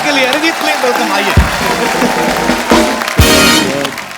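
Studio audience clapping for a singer on a comedy talk show, a loud burst of applause with music, carrying on steadily for a few seconds.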